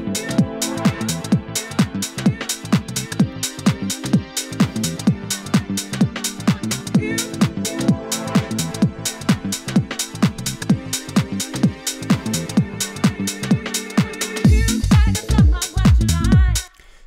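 Electronic dance track break produced in Ableton, with swirling pads and long sustained sounds over a steady pulsing rhythm, loud and continuous before ending abruptly, no talk.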